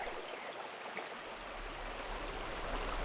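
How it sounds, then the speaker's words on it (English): Willow Creek flowing steadily in autumn, a continuous broadband rush of running water with soft babbling detail, close and even in level, with no voices. "the sounds of the creek"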